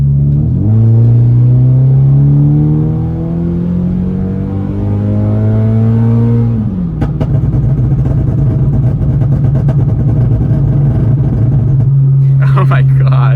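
A modified Scion FR-S accelerating hard in automatic, its engine note climbing loudly through the revs, dropping at a shift, then pulling again with a deep rumble, close and dominant.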